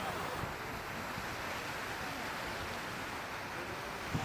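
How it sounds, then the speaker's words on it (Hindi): Cool night wind blows steadily across Nathan Phillips Square in Toronto, a continuous broad rushing hiss with no breaks or voices. "हवा भी काफ़ी अच्छी चल रही है, ठंडी ठंडी"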